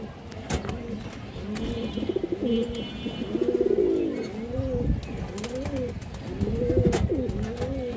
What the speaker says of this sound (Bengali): সিলভার বাঘা মাদি কবুতর, পুরানো ব্রাড লাইনের কবুতর দর্শক